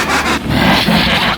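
A chainsaw revs in a dubbed Chainsaw Man anime fight scene: a loud, continuous buzzing roar that swells and holds steady for over a second, with a short dip near the start.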